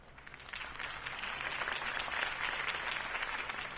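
A video game crowd claps steadily, a dense wash of applause building slightly and holding for a few seconds, with no voices over it.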